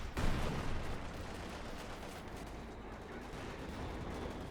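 Battle gunfire and artillery in Company of Heroes 2 with a field gun and Panzer IV tank in play: a heavy blast at the start, then a dense rumbling wash of distant firing and explosions.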